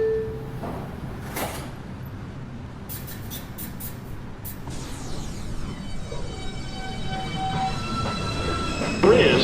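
A Rose Street bound 2 express train departs a New York City subway station, its wheels squealing and its rumble building steadily. A sharp screech cuts in near the end.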